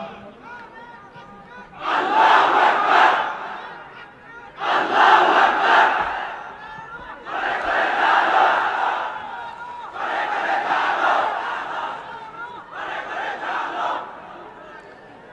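A large crowd at an Islamic religious gathering roars takbir in answer to a preacher, five loud, long collective shouts separated by short pauses.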